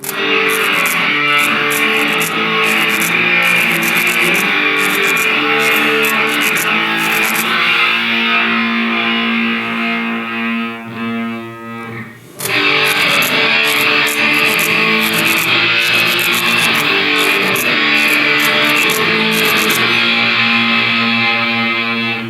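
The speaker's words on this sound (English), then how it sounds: "But with some distortion, it will be more noticeable, the difference." Heavily distorted electric guitar music plays loudly and continuously, cutting out briefly near the middle before resuming with the same gritty, saturated tone.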